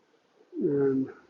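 A pigeon or dove gives a single short, clear coo close by, a rounded hooting note rising out of a quiet outdoor background at a fly-in gathering.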